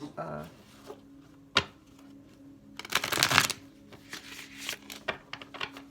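Tarot cards are shuffled close by, with a sharp single flick, then a dense riffle burst and a scatter of lighter taps and slides, and a brief spoken voice at the start.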